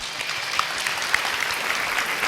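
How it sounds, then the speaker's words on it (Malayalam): School children clap together on a school stage, a dense burst of applause holding steady and close throughout, with a few sharper individual claps standing out. "ഒരു കൈയടി കൊടുത്തേ"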